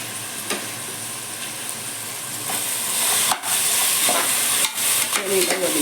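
Carrots, beans and peas sautéing in hot oil in a pan, a steady close sizzle with intermittent scraping stirs and clatter building toward the end.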